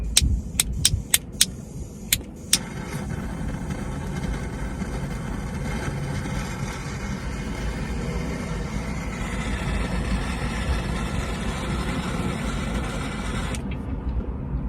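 A Samsung CC1 car engine idles with a steady low rumble, preceded by a few sharp clicks and clatters at the start, then runs evenly alone before cutting off near the end.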